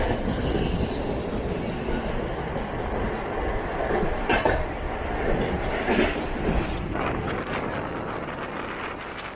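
A Surat–Mumbai Flying Ranee Express train rolling along the tracks, heard as a loud, steady rumble with rhythmic clickety-clack and occasional wheel squeals, close and continuous throughout, with no talking.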